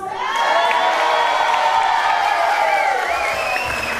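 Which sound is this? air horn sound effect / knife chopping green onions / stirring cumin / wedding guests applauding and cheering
wedding guests applauding and cheering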